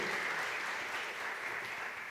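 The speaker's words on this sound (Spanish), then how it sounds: "démosle un aplauso a Camilo Daza" Conference audience applauding a speaker's introduction, a continuous even wash of many hands clapping in a large hall, steady and moderately distant with no voices over it.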